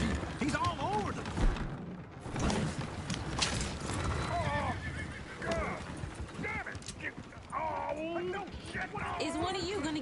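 A horse in a PS4 video game whinnies repeatedly and clip-clops along, heard under frequent talk from people.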